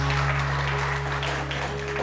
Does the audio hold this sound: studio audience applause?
yes